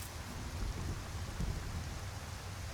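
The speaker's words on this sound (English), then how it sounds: "Holy cow, that rain, man! We done walked into a monsoon." Heavy downpour in the Skyrim video game world, a dense, constant roar of rain with low thunder rumbling underneath, steady and enveloping with no voices.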